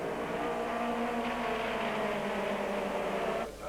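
A TVR Tuscan race car engine in the 1996 Tuscan Challenge at Silverstone drones loudly and steadily with a sustained high whine, easing off slightly near the end.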